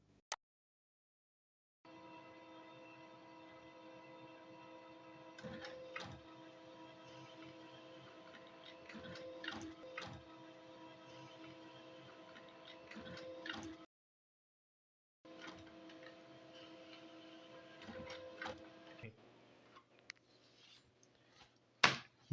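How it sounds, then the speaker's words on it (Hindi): An office printer runs through odd-numbered pages of a document in two long stretches of steady mechanical whirring with clicks and feed thumps, separated by a short pause, ending with quieter rattling. "ये हमारे ऑड पेजेस थे वो प्रिंट होकर के आ चुके हैं।"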